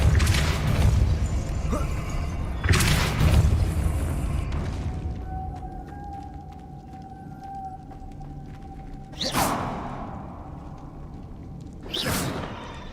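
Hogwarts Legacy's Depulso spell goes off in heavy whooshing booms, one at the start, another near three seconds, then two more later, with a thin sustained tone ringing in the quieter stretch between.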